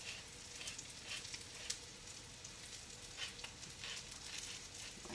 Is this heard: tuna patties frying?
yes